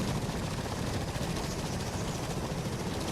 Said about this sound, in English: Helicopter is serious.